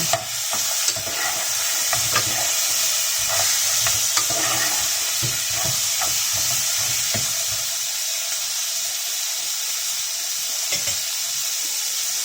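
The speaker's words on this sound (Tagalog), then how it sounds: "Haluin na natin." Pork ribs cooking in a pot with mung beans, stirred through a steady hiss and bubbling, with scattered soft knocks and scrapes of the spoon against the pot and no talking.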